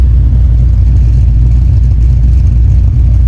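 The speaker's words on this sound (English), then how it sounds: "It's chopping like it should. It's idling nicely." A 2019 Ford Mustang GT with a quiet street exhaust and a home-built cold air intake idles with a choppy lope, a deep, steady engine rumble close by with no talking.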